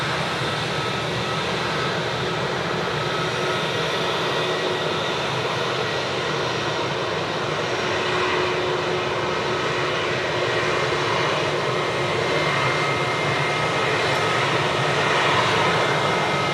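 Malindo flight 172, an airliner bound for Bali, departs Sydney Airport with a steady, broad jet roar that holds loud and unbroken throughout.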